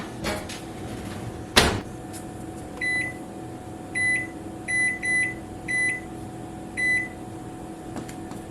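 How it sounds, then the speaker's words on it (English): A dish goes into a home kitchen oven, followed by one loud thud of the door shutting and then a string of short, evenly pitched electronic beeps in quick clusters. All of it sounds close over a faint steady hum. "And in the oven it goes."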